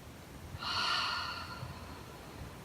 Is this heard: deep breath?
yes